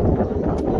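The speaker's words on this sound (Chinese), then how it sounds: "此刻也开始起风了。" Wind blows against the microphone on a high seawall during jig fishing. It is a steady, close, low rumbling buffet that fills the short moment on its own.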